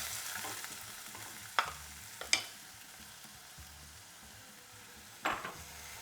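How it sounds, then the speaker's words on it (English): Onion sizzling in a hot pan that has just been taken off the heat, a soft steady hiss of frying with a few sharp scrapes and clinks from stirring, quiet and close with no voices. "as soon as I throw the onion in, I'm going to start stirring it"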